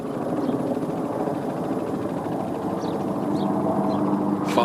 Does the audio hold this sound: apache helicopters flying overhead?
yes